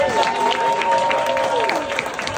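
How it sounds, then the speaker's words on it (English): Audience applause at a special needs fashion show, a moderate, even patter of clapping from a crowd with a sustained tone running beneath it. "let's give a big round of applause for the stars of the"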